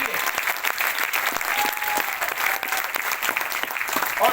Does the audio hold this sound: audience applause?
yes